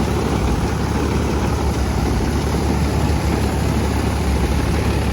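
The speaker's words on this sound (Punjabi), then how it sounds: "ਇਹੋ ਜਿਹਾ ਸਵਾਸ ਤੇ ਚਲੀ ਜਾਂਦਾ ਫਾਰਮ ਟਰੈਕ 60" A Farmtrac 60 tractor engine drives a straw-making machine, giving a loud, continuous, dense roar with a steady low throb and no pauses, close up and alone.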